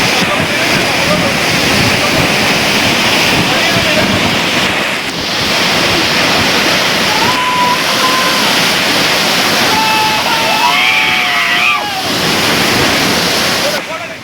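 Hebbe Falls, a 551 ft waterfall in Chikkamagaluru, roars in a loud, steady broadband wash, joined by a few high bird-like chirps and a brief whistle partway through.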